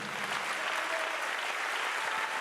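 Steady, dense applause from a large church congregation, loud and continuous throughout with no pauses.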